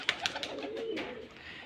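Rajshahi Giribaj pigeons coo once in a low, rolling call near the middle, with a few brief sharper chirps and rustles just before it, close by at a loft.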